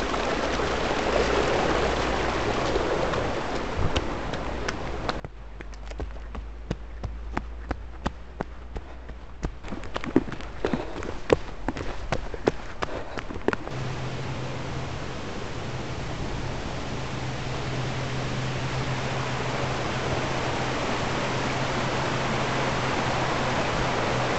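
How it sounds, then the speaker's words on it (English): Steady broadband rush of a stream and waterfall along a trail runs through the whole stretch, with a quieter section full of crunching, rustling steps in the middle. It is constant and close, with no talk. "I can hear the rushing of water"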